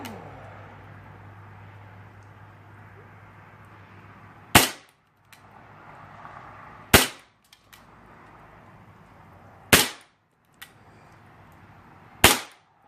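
An Umarex BB gun fires at cans in four sharp, loud cracks spaced a few seconds apart, with a fainter tick of a pellet hit between shots, over quiet outdoor background.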